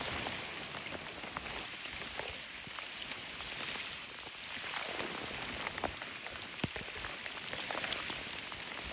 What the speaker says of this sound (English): that rain's pouring pretty good